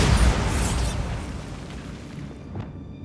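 A Bombarda explosion spell in Hogwarts Legacy fires off as a loud booming burst at the start, then rumbles away into a quieter, lingering tail with a small pop near the end.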